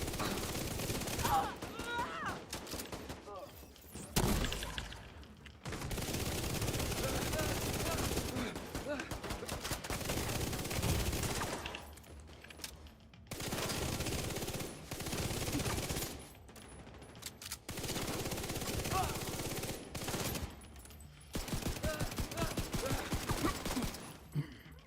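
Video game gunfire aimed at hostile combatants in a PvE shooter, bursts of rapid automatic shots in several long stretches separated by short quiet gaps, loud and close.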